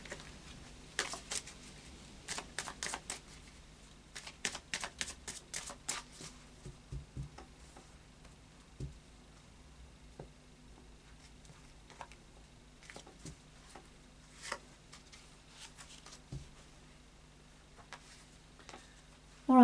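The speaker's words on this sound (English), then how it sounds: "I'll just do a final shuffle now of the Oracle of Visions." A deck of Oracle of Visions cards being shuffled, soft quick riffling clicks and patters in bursts, faint and close against a quiet room.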